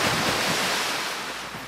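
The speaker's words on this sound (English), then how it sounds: "Whoa, is that a river? It must be the Great River." Rushing river water in a video game roars as a steady, dense broadband wash that stays loud and even throughout, with no voices over it.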